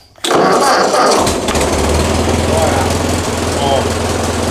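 An Oldsmobile 455 V8 cranks and fires up loudly within a moment of a quiet start, then settles into a steady, deep rumbling idle that continues close by for several seconds.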